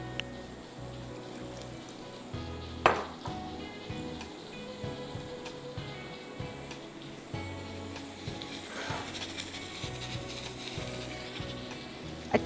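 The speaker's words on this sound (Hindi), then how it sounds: "अच्छी तरह से हम इसको फ्राई करेंगे" Two cups of French fries sizzle in hot oil for chili fries, a steady crackling hiss with a few brief clinks and scrapes on top.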